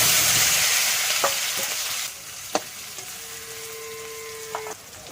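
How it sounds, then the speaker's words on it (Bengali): Potatoes sizzle and fry in hot oil, a steady hiss with a few sharp clinks of a utensil stirring the pan. "সেই আলুটা দিয়ে দেবো। দিয়ে ভালো করে লাল করে ভেজে নেব।"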